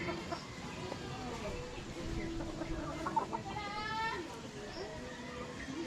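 A brood hen and other chickens on a small farm give soft repeated clucks and short calls, with a brief higher trilling cackle partway through, close by, while people talk at times.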